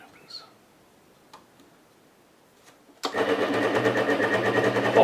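A Kenwood KM210 stand mixer under repair bursts into life after about three seconds of near silence, its motor then running loud and steady with a buzzing, revving whine through to the end.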